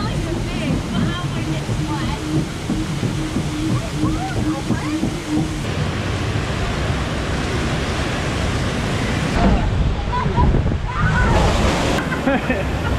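Kali River Rapids water ride at Disney's Animal Kingdom: a steady wash of rushing, sloshing water fills the scene, loud and continuous with some shifts in intensity, and faint talk mixed in.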